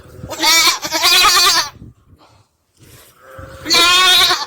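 Goats on a desert farm in Saudi Arabia bleat loudly and close by, two long wavering calls separated by a short quiet gap, with no talking.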